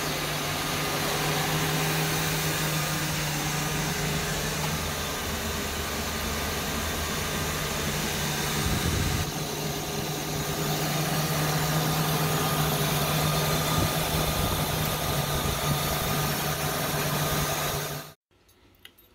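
An RV air conditioner runs after refrigerant is added, a loud, steady mechanical drone with a low hum, holding for about eighteen seconds before it stops abruptly.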